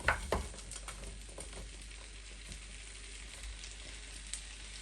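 Frozen vegetables go into a pan with garlic and onion for a tofu curry, hitting with a quick hiss and then settling into a faint, steady sizzle and crackle, quiet and without talk.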